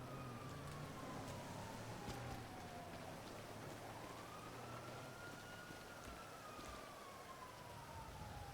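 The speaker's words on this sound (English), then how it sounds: "Of course it's raining." Steady rain in the video game NoPixel 4.0 patters softly and continuously, with a faint wavering tone gliding underneath.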